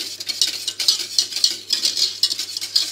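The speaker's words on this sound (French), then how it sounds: "Éventuellement avec une cuillère en bois, de façon à pas trop gratter sur la casserole." A wooden spoon stirs caramel in a saucepan, giving soft, rhythmic scraping and swishing strokes roughly twice a second, close and fairly quiet, with no voices.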